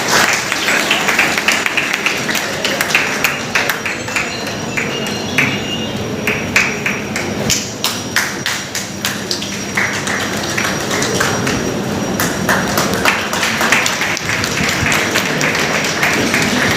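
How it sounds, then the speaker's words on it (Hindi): Loud, sustained audience applause fills a hall at an Urdu celebration and panel discussion, a dense steady clatter of many hands with sharper individual claps standing out throughout. "फ़र्रुख भाई के लिए जोरदार ताली बनती है।"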